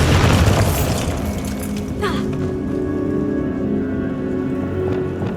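The Bombarda blasting spell goes off in Hogwarts Legacy with a loud, deep boom at the start, then a rumbling, crackling tail like falling debris that fades into a steady wash.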